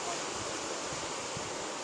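Water released through dam gates into a channel at roughly 300 cubic feet per second, a steady, loud broadband rush that continues without a break.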